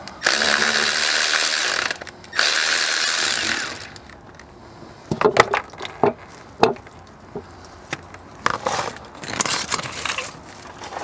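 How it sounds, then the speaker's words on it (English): A hand ratchet works loose the bolts on a car's transmission pan, with bursts of rapid pawl clicking alternating with short pauses and clanks, close and clear. "just hold the pan and ratchet it off"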